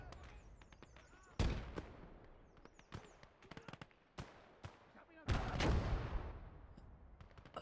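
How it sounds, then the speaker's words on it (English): Gunfire in the World War II game Gates of Hell, with two heavy, booming blasts several seconds apart and scattered sharp shots and cracks between them at moderate distance. "Yeah, we're getting fired upon."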